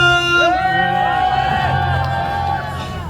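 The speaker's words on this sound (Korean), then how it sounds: "소리 질러!" A street busking audience in Hongdae shouts and cheers loudly, with a sustained chorus of voices that swells, holds and fades slightly near the end.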